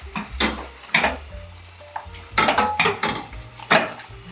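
A spoon stirring a cod and king prawn stew in a pot, with several uneven scrapes and knocks against the pan, close and moderately loud, spaced irregularly over a few seconds.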